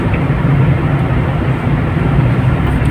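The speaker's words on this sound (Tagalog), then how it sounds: "ito po yung MRT ng Buendia" An MRT train on EDSA at Buendia gives off a continuous, loud, close rumble mixed with heavy road traffic, steady for a few seconds without speech.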